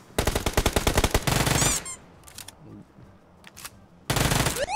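Rapid automatic gunfire in PUBG Mobile, loud close bursts of evenly spaced shots, a pause with scattered fainter sounds, then another burst.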